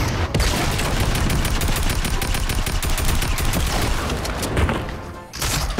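In the Fortnite video game, a rocket slams into a wall and explodes amid a dense, rapid barrage of gunfire and blasts, loud and close with a brief dip near the end.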